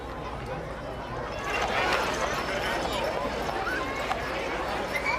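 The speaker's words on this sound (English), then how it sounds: "Beautiful horses." Horses clip-clop along a winter sleighbell parade route, a steady hoof patter heard at moderate distance beneath crowd chatter and a commentator's voice.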